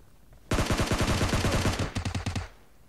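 Automatic gunfire in PUBG Mobile, two loud rapid bursts: a long sustained string of shots followed after a brief pause by a shorter burst, crisp and close, with no talking.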